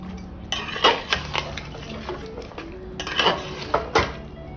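Mutton curry being stirred and fried in a pot, a spoon clanking and scraping against the metal in irregular bursts over a low background of frying, no voices.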